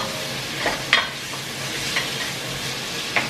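Garlic sautéing in a pan for a burger dish, a steady close sizzle with a few sharp stirring clicks and scrapes, no voices.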